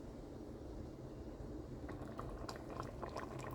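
Pinto beans and smoked pork neck bones boiling in a pot, a steady low bubbling with a thicker burst of popping bubbles in the second half, heard up close with no voices.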